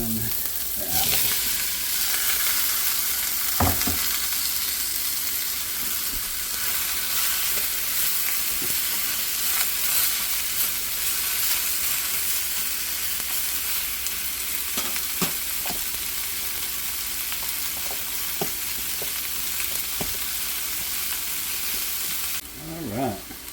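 Pork chops and chopped apples frying in a Lodge cast-iron skillet, a steady close sizzle running throughout with occasional scraping stirs and clinks, no talking.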